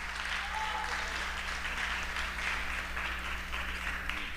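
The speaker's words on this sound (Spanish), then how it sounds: "que se escuche el aplauso para cada una de ellas" Audience applause at a beauty pageant crowning ceremony for the Miss Teen Americas 2023 queens, a steady dense wash of clapping with no break across the whole stretch, with a low constant hum beneath.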